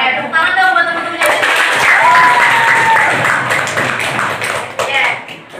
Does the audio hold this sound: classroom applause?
yes